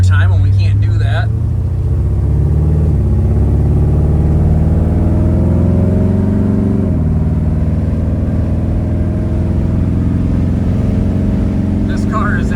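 A 1957 Chevrolet Bel Air two-door hardtop cruising down the road at highway speed, a loud steady engine drone and road roar that climbs in pitch as it pulls.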